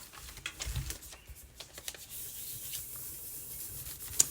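A transfer being rubbed off a galvanized metal bucket, a close, steady scratchy rubbing with soft papery scuffs and a single sharp tick near the end.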